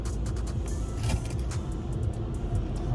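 A car pulling in, with a steady low engine and road rumble, nearby and continuous, and faint clicks and small mechanical sounds on top.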